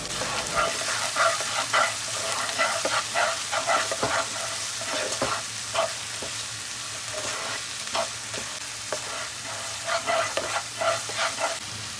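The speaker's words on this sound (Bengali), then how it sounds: "পেঁয়াজটা যখন গোল্ডেন হয়ে আসবে ওর মধ্যে একটু লঙ্কা গুঁড়ো দিয়ে দেবো।" Onion paste fries with chili powder in a pan for a Bengali chicken curry, a steady close sizzle broken by frequent scraping taps from stirring, with no voices.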